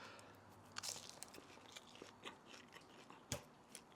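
Someone biting into and chewing steak chilaquiles with salsa-coated tortillas and queso fresco, producing soft close crunches and wet chewing sounds in quiet bursts over a few seconds.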